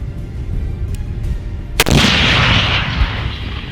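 One sharp, heavy blast from a grenade launcher firing a fragmentation grenade at 1,000–1,300 metres cuts through a low outdoor rumble, followed by a roaring echo that slowly trails away.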